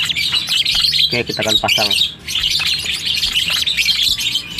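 Young lovebirds (Biola) chirp and squawk loudly and close by, in rapid overlapping bursts that fill the whole clip, while someone speaks briefly over them.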